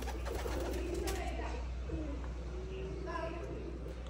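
Pigeons coo in soft, low, repeated warbling calls over a steady background hum, while a person talks nearby through much of it.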